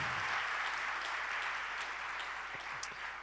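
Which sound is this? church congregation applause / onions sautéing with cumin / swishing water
church congregation applause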